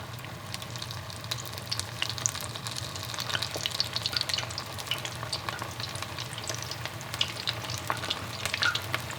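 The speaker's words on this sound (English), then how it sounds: "So for this recipe, we're going to double fry the cauliflower." Battered cauliflower deep fries in oil at around 350 degrees, cooked in small batches; a dense, even bubbling sizzle holds steady from start to finish with fine crackling pops on top.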